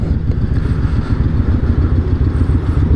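A Yamaha Raider motorcycle pulling away out of a U-turn, its engine a loud, close, throbbing low rumble with a steady rapid pulse and no voices over it.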